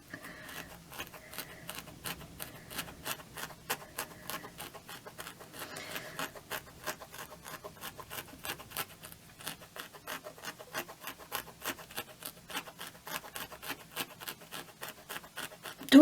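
A felting needle stabs repeatedly into wool while shaping a hand-felted flower, making a soft, quick, steady series of close scratchy pokes that continues evenly throughout.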